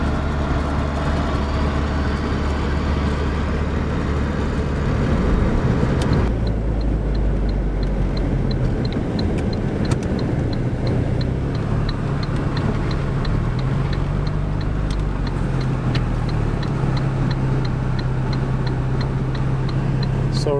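Saab 9-5 Aero engine idling steadily around 2000 RPM, a continuous low drone with a faint rhythmic ticking over it, heard close and unchanging throughout.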